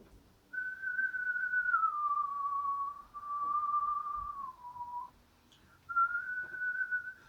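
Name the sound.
person whistling a chant-like melody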